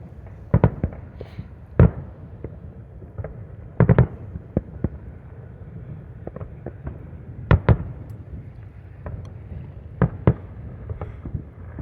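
A night fireworks display with loud, sharp bursts that come singly and in tight pairs at irregular gaps, over a constant low background hum and no talking.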